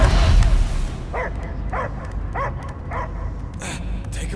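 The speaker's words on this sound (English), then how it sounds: "I hear only barking." Dog barking in the Guardians of the Galaxy video game, a string of about six evenly spaced barks and yips at moderate distance over a low rumbling game soundtrack.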